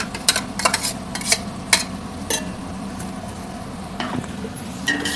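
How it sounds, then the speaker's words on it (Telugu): Betel leaf paste fries in a pan, giving a steady close sizzle broken by sharp scrapes and clinks as a utensil stirs it against the metal, several quick knocks near the start and more spaced taps later. "దాన్ని కూడా పచ్చివాసన పోయే వరకు వేయించాలి."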